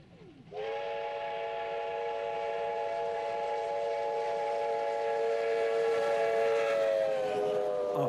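A steam locomotive's whistle sounds in one long, steady, loud blast over the rumble of the passing steam special train, with no voices.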